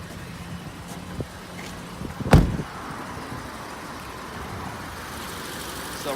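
A Suzuki Grand Vitara idles quietly with its bonnet up, a low, steady engine hum broken once by a single sharp thump partway through.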